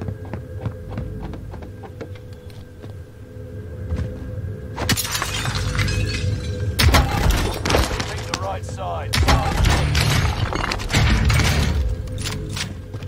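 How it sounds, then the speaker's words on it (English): Glass shatters in Fortnite in several bright crashing bursts spread over a few seconds. The breaks sit above a constant low hum. "I just heard someone break glass right here."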